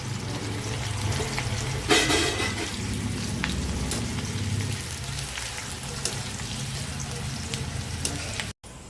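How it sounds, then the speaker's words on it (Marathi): Onion fries in hot oil for chicken dum biryani, a continuous close sizzle with bubbling hiss and a brief louder burst of spatter near the start, running steadily until an abrupt cutoff at the end. "आपलं तेल तापलेलं आहे मंडळी. तर आपण यातला कांदा अर्धा फ्राय करून घेणार आहोत."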